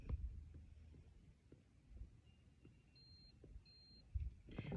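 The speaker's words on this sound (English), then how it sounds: "You hear that beep?" Two short high-pitched electronic beeps from a Lowrance GHOST trolling motor entering configuration mode sound close together over a low background rumble, with a few soft knocks around them.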